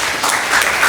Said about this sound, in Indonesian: Kasih tepuk tangan itu.